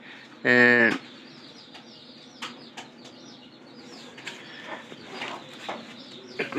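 Pigeons in their loft: one loud burst of wing flapping near the start, then soft cooing and scattered rustles and small knocks at close range.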